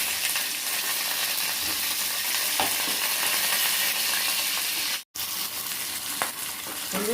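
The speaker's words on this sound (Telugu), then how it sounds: "పెరుగు తాలింపుకి ఉల్లిపాయ పచ్చిమిర్చి ఎండుమిరపకాయలు కరివేపప్పు ఇలా తాలింపు పెట్టేసి" Onion, green chillies, dried red chillies and curry leaves sizzle in hot oil as a tempering for curd vada, a steady close crackling hiss with occasional stirring clinks and one brief dropout near the end.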